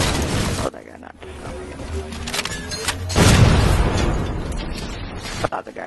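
Grenade blast in Halo 4 Complex Slayer: a loud, close booming explosion with a long rumbling tail, set among other gunfire and game noise, with people talking over it.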